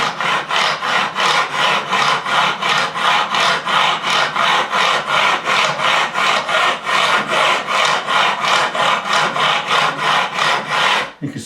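A long, even fret-levelling beam is drawn back and forth across the metal frets of a Japanese-made Fender Stratocaster neck, producing loud, close, rhythmic rasping strokes at a steady pace of roughly two per second.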